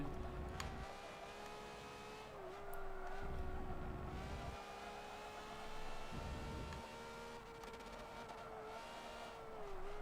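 A Ferrari race car engine in Forza Motorsport 7 drones at a sustained high pitch, rising and dipping with gear changes and throttle, and swells louder every few seconds as other cars pass.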